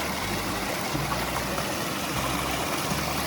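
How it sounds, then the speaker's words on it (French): Water from a small natural waterfall splashes steadily over a pan being rinsed in it on a hiking trek, a continuous close broadband rush with low rumble and no talk. "il y a une petite cascade, enfin un petit truc qui produit de l'eau"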